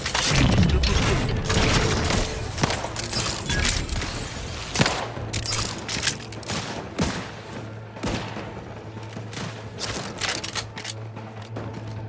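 Repeated bursts of gunfire from The Outer Worlds 2, sharp shots scattered irregularly across the scene over a steady low drone, with several loud cracks standing out and no talking.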